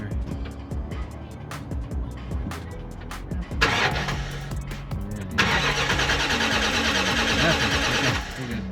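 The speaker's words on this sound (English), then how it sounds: "We're going to crank this thing over and see." A RAM ProMaster van engine cranks but won't start, with the starter churning in repeated bursts that grow louder and more sustained toward the end, without ever catching. Faint voices are heard in the background.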